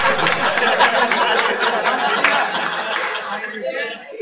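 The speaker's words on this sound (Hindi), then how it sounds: "जो जो लोग अपनी पत्नी से दुखी हैं जोरदार तालियां बजाएं।" A crowd at a poetry event claps loudly and continuously, with chatter and some laughter mixed in, before the clapping fades slightly toward the end.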